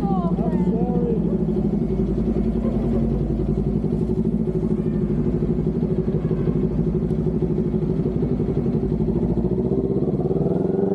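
Motorcycle engine running steadily throughout with a dense low rumble, ridden along under continuous talk from people nearby.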